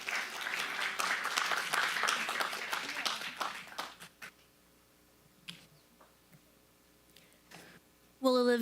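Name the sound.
audience applause at county supervisors meeting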